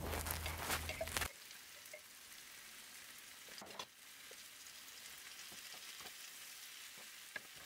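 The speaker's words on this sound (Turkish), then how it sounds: "Bir kase dolusu da kuşbaşı et ekledim." Diced beef fries in a pan, loud sizzling for the first second before dropping to a quieter steady hiss with scattered stirring clicks and scrapes.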